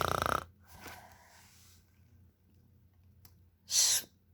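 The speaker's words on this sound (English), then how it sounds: "And he's snoring." Two breathy snores a few seconds apart, the second a short loud snort, with quieter raspy breathing between them.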